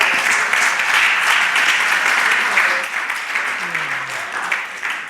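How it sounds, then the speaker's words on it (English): Audience applause at a faith-themed gathering, a dense sustained wash of many hands clapping that holds steady, then thins slightly toward the end with a brief low voice underneath. "give him another round of applause."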